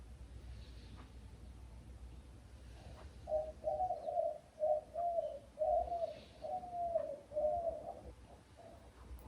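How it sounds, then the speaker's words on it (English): Doves or pigeons coo in a soft, repeated rhythmic series on a back porch, the low calls clear but fairly gentle against a quiet background. "I have some doves, some pigeons or doves, I can't tell them apart. They live on my back porch."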